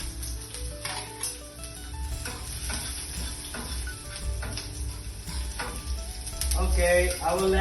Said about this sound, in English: I'm going to add the shot of oil in the pan